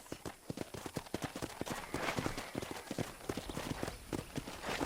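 Horse hooves clip-clopping at a steady riding gait in Red Dead Redemption, a rapid, even stream of close hoof clops.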